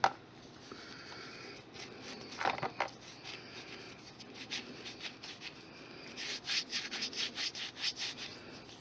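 A blade slices through polymer clay with soft rubbing and scraping strokes, quiet and close, ending in a run of quick repeated scrapes.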